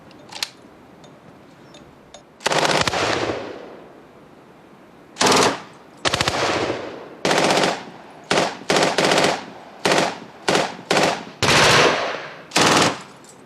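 An original World War II MG-42 machine gun fires in bursts on a range: about a dozen sharp, loud volleys of varying length, from short cracks to bursts over a second, separated by brief silences.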